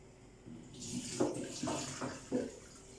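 Tap water runs into a sink while something is washed under it, the steady stream broken by a few splashy surges as hands or dishes move through it, close by in a home kitchen.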